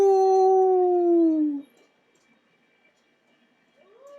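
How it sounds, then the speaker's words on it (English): A high-pitched animal howl from the visual novel game Tsukihime rings out loud and close, holding steady for over a second before sliding downward and cutting off, followed by near silence and a faint rising cry at the end. "The howl of an animal. It sounds too high to be a dog."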